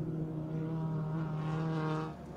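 A Novak Racing Honda EK9 race car on track, its engine holding a steady droning tone that drops away at the end as it brakes and turns left, heard alone from a fair distance.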